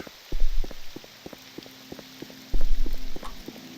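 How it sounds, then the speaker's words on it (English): Rain falling in the video game Morrowind, a steady patter with sharp droplet ticks and two louder rushing swells, heard alone without speech. "Still raining, though."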